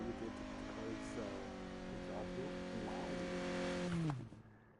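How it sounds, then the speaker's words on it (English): A car engine in Need for Speed (2015) drones steadily with rising and falling revs and gear shifts, then cuts off abruptly near the end, with no talking. "That's the least intimidating exhaust."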